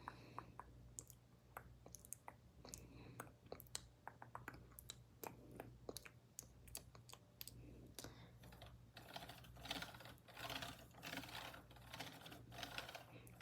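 Steady typing on a keyboard beside a rose quartz moon night light, with fast, continuous close-up key clicks that grow busier and louder toward the end, over a low background hum.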